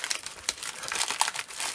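A plastic comic bag, Mylar or poly, crinkles and rustles during an unboxing in a short, busy burst of close, uneven crackling.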